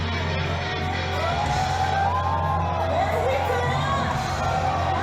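Energetic concert crowd in Mexico cheering, whooping and shouting continuously, a dense wall of voices with rising yells over a steady low hum.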